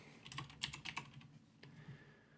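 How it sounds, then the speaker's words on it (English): Keys on a computer keyboard clatter in a quick burst of close taps, then thin out to a few scattered presses before stopping. "I gotta type it in here."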